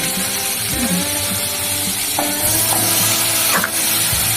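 Marinated chicken hits hot ghee in a pan, producing a dense, loud continuous sizzle up close, with a few clacks and scrapes of a spoon or lid over it.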